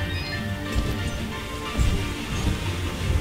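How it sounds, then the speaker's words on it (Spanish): Rain falls in the video game Dust: An Elysian Tail as a dense, constant patter, with a few heavier low thumps rising through the shower. "Está lloviendo."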